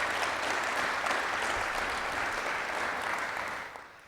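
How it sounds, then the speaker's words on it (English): A crowd at a press conference gives sustained applause, a broad steady wash of many hands clapping together that fades out near the end. "So can we give them a round of applause for applying?"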